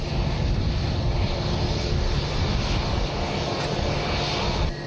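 A charter plane's engine at an airport gives a steady, loud, broadband roar with heavy low rumble and wind-like hiss, continuous throughout with no talking.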